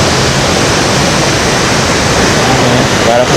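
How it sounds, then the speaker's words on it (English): Loud, constant roar of a roadside waterfall in Costa Rica, broad, close crashing water drowning everything, with a faint hint of other sounds near the end. "You walk down. And you can get to the bottom of the waterfall."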